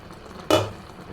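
A covered pot of raw mango Burmese pickle, spiced with chili and turmeric powder, bursts into a short loud sizzle as its lid comes off, then settles back to a low bubbling simmer.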